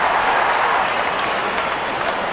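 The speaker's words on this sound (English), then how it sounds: "Wonderful 50, and the crowd applauds." A cricket crowd applauds a batter's fifty during a Bangladesh versus Ireland T20 international, a dense, loud wash of clapping from a large stadium audience sustained throughout without break.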